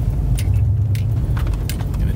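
A full-size Eddie Bauer Ford Bronco rolls off-road at Truckhaven. A loud, steady low engine rumble sits close by, with light rattling and jangling over it.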